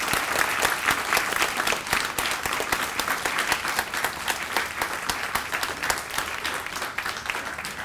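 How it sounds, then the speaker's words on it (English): Sustained applause from a school audience for origami club students at a moving-up ceremony, dense steady clapping throughout with no voices standing out. "Let's give these creative students a round of applause."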